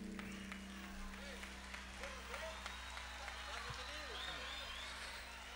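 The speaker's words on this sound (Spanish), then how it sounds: "Muchas gracias de parte de Pablo y Javier por esos aplausos." Audience applause for the musicians Pablo Arias and Javier Tapia, a steady, fairly faint patter of many hands running under a speaking voice throughout.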